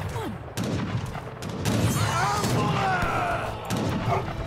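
Gunfire in Age of Empires III: The Asian Dynasties, a skirmish battle, with sharp bursts of shots and thuds over ongoing game noise, mixed with talk throughout.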